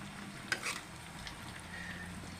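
Chopsuey with chicken, chili, onion and ginger sizzling faintly in a pan, a soft frying hiss with a couple of sharp utensil clinks near the start, quiet and close.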